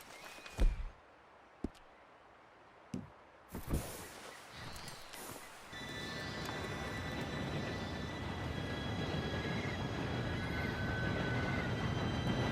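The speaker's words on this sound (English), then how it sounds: "Train should be here any minute now." In a Red Dead Redemption 2 gameplay scene, a few sharp knocks come first, then an approaching train's rumble rises to a steady, loud roar with faint whistle-like tones, and no one speaks.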